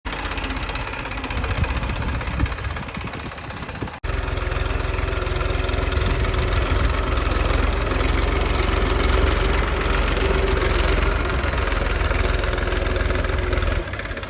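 A tractor engine idles steadily on a farm during drainage work, a loud continuous low rumble that jumps in level after a brief dip near the start and then holds.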